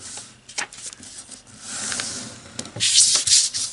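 Paper is folded and creased by hand for an origami crescent moon, heard as short dry rubbing and scraping strokes with brief pauses between them, close to the microphone and growing louder toward the end.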